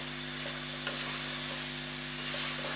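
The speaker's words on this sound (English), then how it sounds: "So that's just me stirring through so that all the ingredients will come together." Samosa filling sizzles and fries in a pan while being stirred, a steady soft hiss with faint scraping strokes throughout, no voices.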